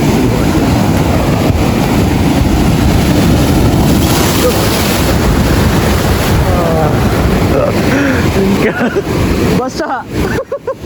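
Loud, continuous roar of ocean waves and wind buffeting the microphone at Masanga, General Nakar, Quezon, with water churning throughout and a few sharper splashes near the end.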